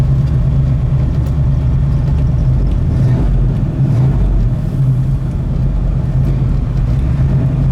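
A restomod 1965 Ford Mustang Fastback engine runs at a steady idle, producing a loud, continuous low rumble and hum that stays even throughout, with no talking.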